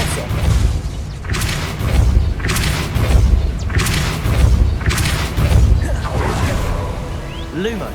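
Depulso spell impacts in Hogwarts Legacy on PS5, a series of heavy booming thuds and whooshes repeating about every second, loud and close with a rumbling low end.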